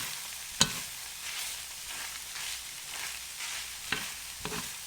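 Egg frying and being stirred in a pan for fried rice makes a soft, steady sizzle, with several sharp scraping clacks of the utensil against the pan, close and with no voices.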